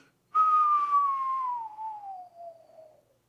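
A human voice whistles in imitation of a slide whistle, one long steady tone gliding slowly downward for about three seconds before fading out, close and alone.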